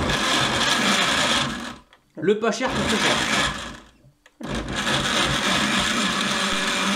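A loud blender whirs in long bursts mixing harira soup ingredients, stopping briefly twice while a person speaks in the gap, then starts up again.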